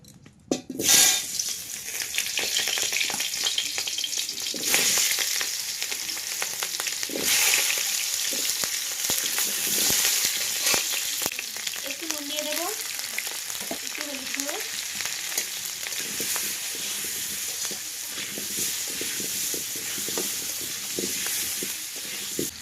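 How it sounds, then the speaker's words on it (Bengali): New garden potatoes fry in hot mustard oil in a kadai with a steady, loud sizzle and crackle that runs unbroken throughout, with occasional stirring scrapes and no talking. "কিন্তু আলুগুলো ভেজে নেব"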